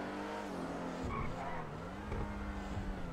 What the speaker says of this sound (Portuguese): Se ele canta muito o pneu